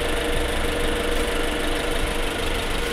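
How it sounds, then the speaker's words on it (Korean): The 2.4-litre engine of a second-generation Jeep Compass Limited AWD idles with the engine bay open, giving a steady, even mechanical hum and light ticking heard close up for a few seconds. "엔진 소리 일정하네요."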